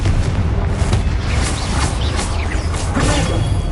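A Confringo spell explosion in the Hogwarts Legacy video game, heard as a dense, loud, sustained rumbling blast with crackling debris that fills the whole moment, without any voice.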